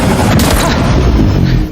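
Sniper rifle fire in an action film comes as a loud, dense, continuous blast of gunfire with booming low end that fills the whole moment and fades slightly at the close.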